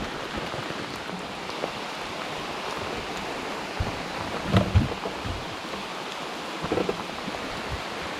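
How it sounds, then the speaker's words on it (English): Rain falls steadily outdoors by the water during a fishing outing, a constant close hiss of drops with a few louder splashes and knocks. "Well guys, it is raining."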